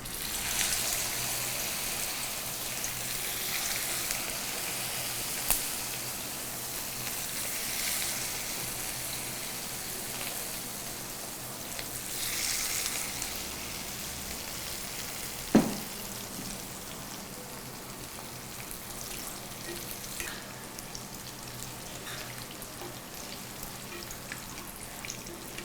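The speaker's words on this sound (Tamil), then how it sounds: "நல்லா வந்து டீப் ஃப்ரை பண்ணணும்" Marinated chicken wings deep frying in hot oil, a steady bubbling sizzle with faint crackles that runs throughout and one sharp pop midway.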